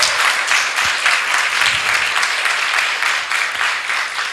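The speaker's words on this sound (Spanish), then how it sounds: "Den un aplauso al Señor." Church congregation applauding during a Spanish-language sermon, a sustained broad clapping from many hands, steady and loud for several seconds without speech.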